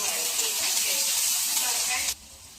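Chopped garlic and onion with green chili, bay leaf and a piece of cinnamon frying in soybean oil in a pan, giving a steady close sizzling hiss that continues before cutting off sharply near the end.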